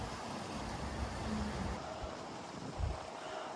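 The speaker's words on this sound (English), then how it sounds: "Again, still very, very windy." Strong wind gusts roar steadily outdoors around a 15-foot Christmas tree with a shaking topper, a broad continuous rush with low buffeting surges, swelling near the end.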